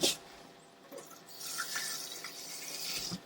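Water trickles and splashes in small pours into a bowl of gram flour, yogurt and spice batter in a home kitchen, faint and close with short dribbling bursts and no voices.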